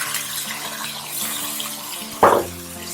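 Water pours into a pot of rice being cooked for biryani, a short splashing gush near the end following a quieter stretch of faint kitchen hum.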